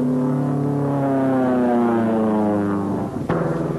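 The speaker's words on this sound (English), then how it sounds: "With a modified gun sight at low altitude, the pilot shoots his bomb into the target and takes evasive action." A World War II Army Air Forces aircraft flying low during a skip bombing run, a loud steady propeller engine drone with a falling pitch that ends in a sudden thump.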